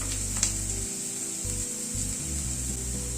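Vegetables sautéing briefly in a pan for sago upma, a soft close sizzle with faint scraping of a spatula, low and steady under a constant background hum.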